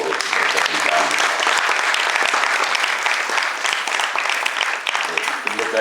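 An audience at a theatre performance gives the backstage crew loud, sustained applause, a dense, continuous wash of clapping that fills the room from start to finish.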